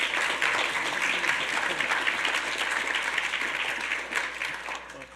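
A hall audience applauds the executive director of the San Diego Indian American Society at a scholarship awards ceremony, a dense, steady wash of clapping that holds for about five seconds before tapering slightly at the end.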